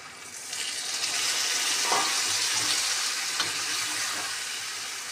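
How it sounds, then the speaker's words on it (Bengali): Water poured into a pan of frying tangra fish curry with aubergine and potato, a sudden hissing sizzle that swells and then settles into a steady bubbling fry, close and fairly quiet, with no talk. "এবার দিয়ে দেবো হচ্ছে জলটা।"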